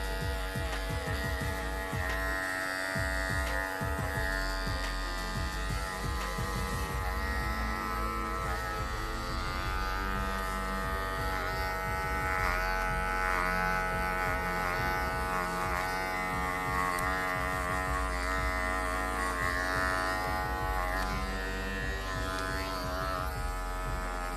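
Andis electric hair clippers buzzing continuously while cutting hair for a women's faux hawk, a steady close hum with small shifts in pitch as the blade moves through the hair.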